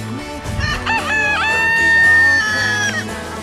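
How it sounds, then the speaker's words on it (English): A rooster crows loudly and close by, one long drawn-out cock-a-doodle-doo that follows a few short clucks, heard alone with no talking over it. "that rooster."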